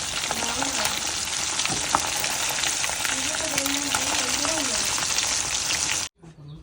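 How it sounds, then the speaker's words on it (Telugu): Fish sizzles loudly and steadily in a frying pan, a dense continuous crackle with faint voices murmuring underneath, cutting off abruptly near the end. "ఇది అయితే ఫ్రై చేస్తున్నాం"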